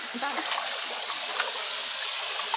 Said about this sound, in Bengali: আমাদের ঝর্ণার জলে স্নান করা হচ্ছে এখন